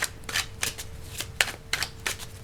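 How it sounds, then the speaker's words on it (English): Tarot cards are shuffled and pulled from a deck, heard as a series of quick, soft papery flicks and riffles in an irregular rhythm, close and quiet. "let's pull the last card here"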